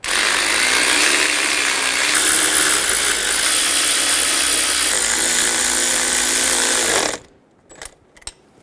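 Ratchet wrench snugging down throttle body bolts on a 2011-2014 Hyundai Sonata, a fast continuous clicking run that lasts about seven seconds, loud and close, then stops, followed by a few faint taps.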